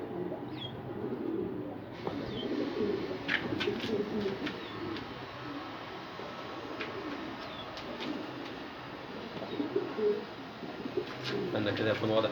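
Qatqati pigeons, an Egyptian breed kept in a loft, coo softly and repeatedly in low rolling calls, with occasional wing flutters and chirps, under steady background ambience and some nearby voices.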